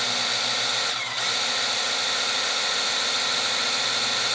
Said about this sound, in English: so you can see our drill there, and if I go here, if I turn it on